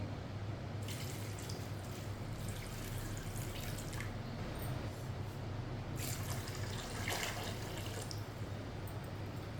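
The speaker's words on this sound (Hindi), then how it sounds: "2 गिलास पानी डाल लेंगे" Two glasses of water pour steadily into a pot for cooking white chickpeas, a continuous splashing stream with bright trickling tones, close by and without pause.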